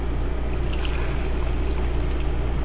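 Homemade chicken stock with celery, onion and bay leaf pours steadily into a clear container, a continuous close liquid rush and splash with no talk over it.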